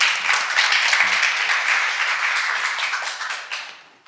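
A church congregation at a Korean seminar session claps together in a brief burst that swells quickly, holds steady, then tapers off and fades near the end.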